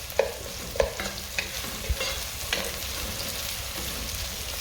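Onion fries and browns in a pan over a gas flame, giving a soft, steady sizzle broken by a few sharper scrapes and knocks of stirring.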